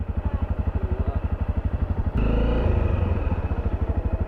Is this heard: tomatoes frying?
no